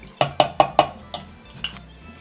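Ice cubes drop into a cocktail shaker holding mango puree, four quick evenly spaced clinks followed by two softer, scattered clinks, close and clear with no talk.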